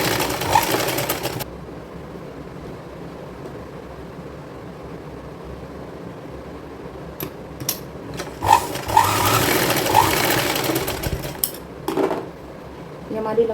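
Sewing machine stitching long fabric strips together for a patchwork kurti, running in steady whirring bursts at the start and again later, with handling clatter in between and at the end.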